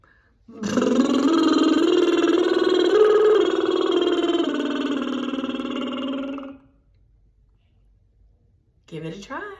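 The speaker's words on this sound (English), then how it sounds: "now we're going to put the trill on that scale" A voice performs a buzzing lip trill that rises and falls through a five-note scale, held for about six seconds, followed by silence and a brief vocal sound.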